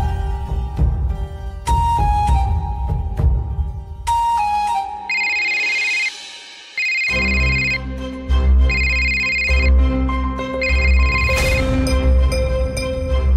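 A mobile phone rings with a loud electronic ringtone melody, repeating bright tonal phrases over a steady beat, playing alone for several seconds without speech.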